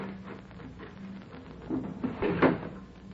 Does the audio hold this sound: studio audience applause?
no